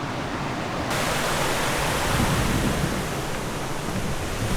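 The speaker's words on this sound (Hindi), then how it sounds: "यहाँ से वो झरना सा स्टार्ट हो रहा है" A small waterfall in the Limehouse Conservation Area gives a loud, steady broadband rush of falling water, constant and close throughout.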